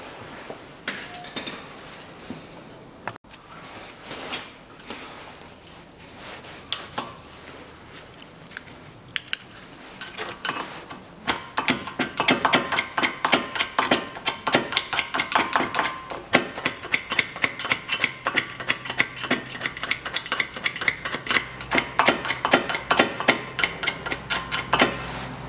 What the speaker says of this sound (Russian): Поднимаю пластинки и под пластинками отверткой почищу тоже.